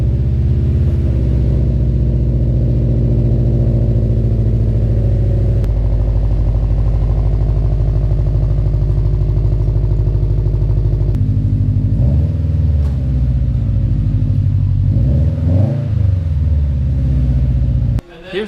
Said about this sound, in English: We're gonna start it up for the first time. Here we go, NVIDIA catback exhaust.